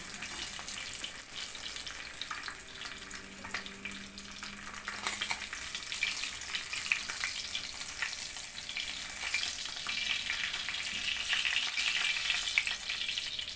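Six pieces of fish fry in a pan with a dense, steady crackling sizzle that grows slightly louder over time, with a faint tonal hum early on and no talk.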